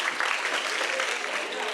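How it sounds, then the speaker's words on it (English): Audience applause at the opening of a Pitch:90 event, a steady dense wash of clapping from a crowd, fairly loud and continuous for the whole stretch with no voices over it. "You guys give yourselves a big round of applause."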